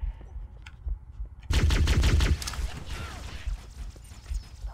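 Gunfire in the Halo video game on Legendary difficulty: faint scattered taps, then a loud rapid automatic burst of roughly a second, followed by quieter scattered shots and mechanical clatter.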